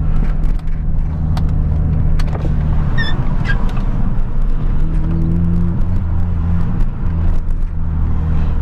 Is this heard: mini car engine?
yes